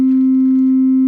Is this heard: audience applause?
no